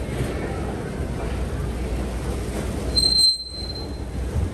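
Heathrow airport terminal shuttle train running, a loud steady rumble of rolling wheels with a brief high metallic squeal of wheels on rail near the end.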